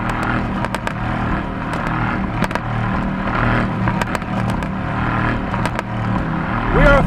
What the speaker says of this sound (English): I love how this car pops.